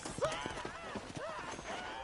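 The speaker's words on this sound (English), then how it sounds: "let's see if you can still ride a horse" Horse hooves clip-clop at a steady trotting rhythm in the Western video game Red Dead Redemption, faint and mixed with a brief whinny-like tone and background sound.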